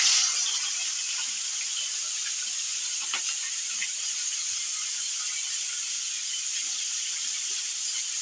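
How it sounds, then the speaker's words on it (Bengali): Cauliflower pieces frying in hot oil in a pan, after potatoes, for a fish curry with tomato: a steady, close, bright sizzling hiss with faint crackles and pops throughout, no talking. "ফুলকপিটা ভেজে নিচ্ছি।"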